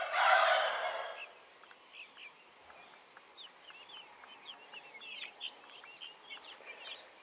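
Hatched poultry give a soft recognition noise: after a loud close burst at the start, a string of faint high chirps and peeps follows, scattered and gentle in a quiet setting.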